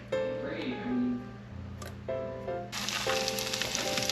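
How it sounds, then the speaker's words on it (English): Garlic hits a hot pan while venison Wellington is being prepared. A bright, hissing sizzle swells up partway through and stays loud, following a stretch of humming tonal sound. "Add a little bit of garlic to the pan while we have it here."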